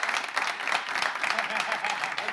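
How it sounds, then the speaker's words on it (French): A stage audience applauds to welcome a guest, a dense and continuous wash of clapping from a crowd that stays fairly loud throughout, with a voice faintly mixed in. "Tu as senti tes applaudissements comment?"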